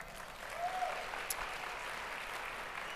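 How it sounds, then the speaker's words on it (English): An audience at a talk on AI and human skills claps, producing a soft, fairly distant wash of applause that holds evenly throughout, with a brief faint squeak partway in. "Clap your hands."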